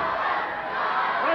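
A wrestling arena crowd at a televised pro wrestling show roars and cheers continuously, a dense loud wash of voices throughout the short moment.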